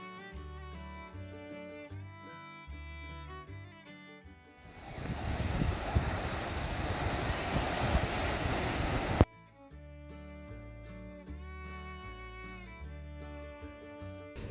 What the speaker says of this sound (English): experience those waves in North Myrtle Beach